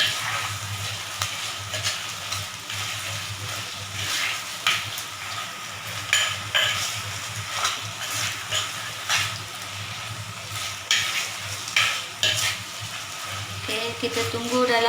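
Steady sizzling of chicken frying in a pan, with repeated scrapes and clinks of a utensil stirring it, close and clear.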